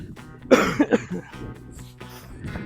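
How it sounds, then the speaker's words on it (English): A few harsh coughs in quick succession, close to the microphone, followed by quieter throat-clearing sounds. "I just can't stop coughing"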